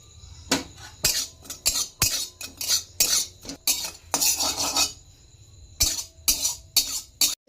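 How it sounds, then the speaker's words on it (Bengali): Dry fenugreek seeds being stirred in a dry pan, a spoon scraping and clinking against the metal in quick repeated strokes with short pauses, close and fairly loud with no talking. "মেথিটাকে হালকা নেড়ে নেব শুকনো খোলায়।"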